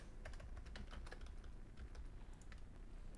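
Fast typing on a computer keyboard during an Adobe After Effects session: a steady run of quiet, close key clicks over faint room noise, with no voices.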